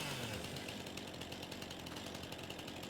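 Chainsaw in the Farming Simulator 22 video game cutting up small leftover pieces of wood, a steady loud buzzing drone with a gritty rasp that holds for the whole stretch, no talking.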